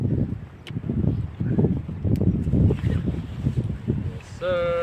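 Strong wind gusting on a Philippine coast where rough waves are running, a steady low roar rising and falling in surges throughout, with brief voices speaking over it near the end.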